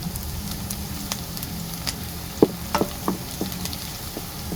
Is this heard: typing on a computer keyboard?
no